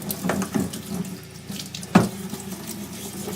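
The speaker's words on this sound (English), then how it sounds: "with this little piece, we're just going to give it a little rinse" A small metal piece is rinsed under a running sink tap, giving a steady close water rush with splashy surges as the part moves through the stream, and a sharper splash near the two-second mark.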